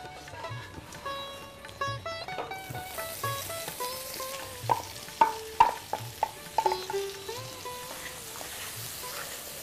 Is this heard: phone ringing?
no